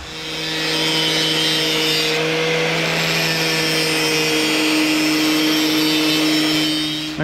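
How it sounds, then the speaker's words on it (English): Bench grinder running steadily to sharpen the point of a nail into an iki jime spike, a loud continuous whine and grinding hiss close by with no talking. "All I'm going to do now is fire up the grinder and sharpen that end"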